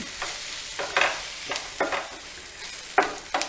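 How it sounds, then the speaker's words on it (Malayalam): A spoon stirs turmeric through a yam stir fry in a hot pan, giving repeated scraping strokes in an irregular rhythm over a soft continuous sizzle, close and moderately loud with no voices. "ഇനി ഒന്ന് ഇളക്കാം"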